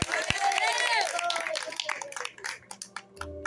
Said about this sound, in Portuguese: Quem pode aplaudir ao Senhor?